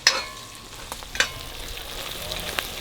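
Chicken frying in a pan at a Jamaican country-style street food stall, a steady close sizzle with a few sharp scrapes and clatters as the pieces are stirred and turned.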